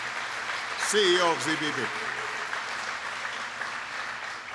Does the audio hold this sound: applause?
yes